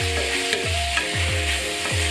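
Chicken fried rice sizzles loudly in a hot pan, with repeated scraping stirs of a utensil at a quick, regular pace over the constant frying hiss.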